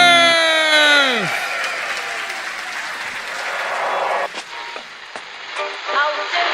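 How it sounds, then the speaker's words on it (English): A crowd at a live show applauds the hosts with sustained, dense clapping, opening under a loud descending electronic tone that fades out before the applause continues steadily to the end. "And a round of applause for Owen McDevitt, Ciarán Murphy, and the star of the show, US"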